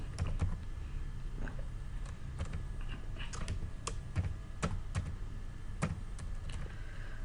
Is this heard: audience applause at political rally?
no